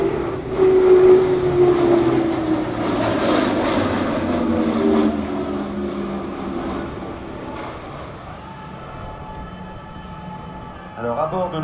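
Airbus A400M Atlas military four-engine turboprop transport flying past at an airshow in Provence, a loud sustained engine roar with a sweeping drone that slowly fades as it moves away, while a commentator talks over it.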